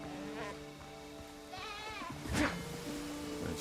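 A goat bleats in the video game Windrose, giving a wavering cry followed by a louder, sharper call, heard over soft game ambience and a faint steady tone.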